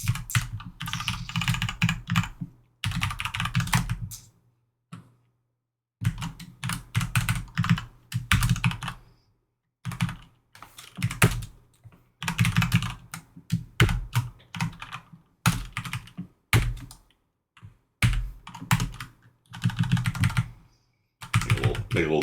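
Bursts of C++ code being typed on a computer keyboard, quick clattering keystrokes arriving in runs with short pauses between them, close and fairly loud, with no talking.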